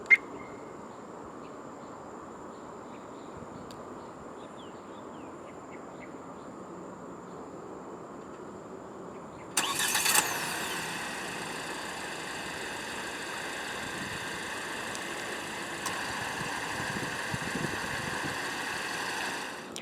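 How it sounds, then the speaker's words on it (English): Chery Tiggo 8 Pro SUV engine starting by remote start, heard from outside: a quiet ambient hush, then a sudden crank and catch settling into a steady, fairly quiet idle hum with no voices. "The Tiggo 8 Pro in Malaysia does come standard with a remote engine start system"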